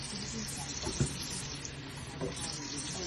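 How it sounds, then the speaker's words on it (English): Water poured into a Natural Action portable water unit, a steady broadband splashing and trickling flow that runs continuously at close range, with a couple of brief thumps along the way. "Good, put more water in."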